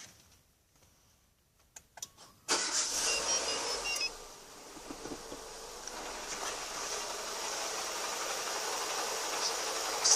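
A Renault Megane 2 engine starting after a clutch replacement: a brief crank and catch, then a steady idle with a faint ticking knock, recorded close in quiet surroundings.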